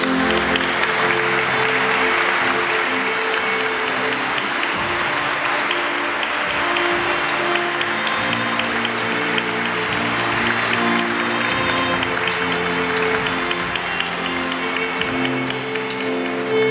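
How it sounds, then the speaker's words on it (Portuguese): Wedding guests standing and applauding the newly married couple, Erika and Matheus, during the ceremony in a large room, with sustained, dense, loud clapping and music playing underneath the whole time. "Convido a Assembleia a se colocar de pé e aplaudir este casal."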